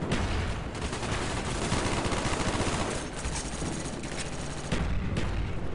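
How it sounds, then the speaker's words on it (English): Dense, continuous gunfire from Call of Duty Black Ops on PC, with rapid automatic bursts and booming shots layered into a loud, unbroken barrage with no talking over it. "Now that you're hearing all the gunshots and stuff"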